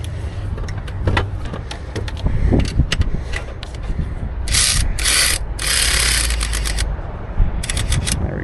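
A ratchet tightens the mounting bolts on a new alternator on a Chevy 2.4L engine: close, crisp bursts of rapid clicking, some short and some longer, separated by brief pauses.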